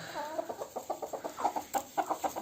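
A hen and a rooster cluck together close by in a quick, uneven series of short calls that go on throughout, with no talking over them.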